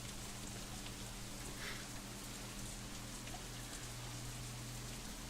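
Steady rain falls in the visual novel Katawa Shoujo as the scene nears a girls' dormitory, a continuous soft hiss of drops on surfaces with a low background hum and no voices.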